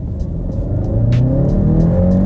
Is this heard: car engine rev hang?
yes